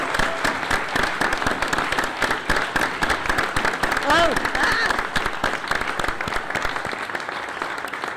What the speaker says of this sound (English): So if you would just give these students a round of applause for their accomplishments.